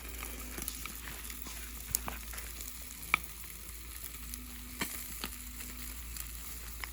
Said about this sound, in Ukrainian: смажимо рибку.